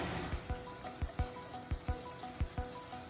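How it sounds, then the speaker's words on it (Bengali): Onions fry quietly in oil in a pan, a faint low sizzle under a regular series of soft scraping strokes as they are stirred, about a dozen evenly spaced. "তারপর পেঁয়াজটা একটু নাড়াচাড়া করে আবার তাতে একটু লবণ দেব, যাতে পেঁয়াজটা খুব তাড়াতাড়ি ভাজা হয়ে যায়।"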